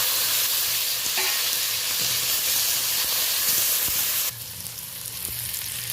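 Green chilies, some of them half-split, go into hot oil with onion, tomato and spices and fry with a loud, continuous sizzle, close up and steady, with the hiss easing slightly near the end and no talking.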